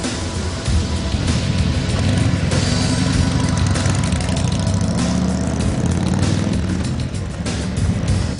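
A motorcycle engine runs steadily during a test ride after its brake pads were changed, a loud, continuous rumble holding close and constant throughout with no talk over it.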